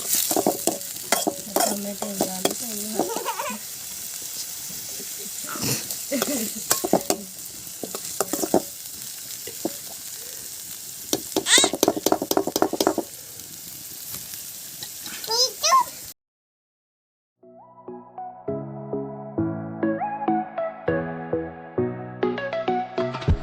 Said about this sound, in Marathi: कांदा आपल्याला भाजून घ्यायचा